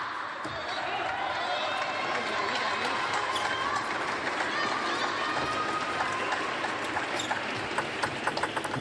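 Crowd noise in a packed hall at a table tennis mixed doubles quarterfinal in Doha, a steady roar of cheering and chanting with scattered clapping throughout, while a commentator talks over it.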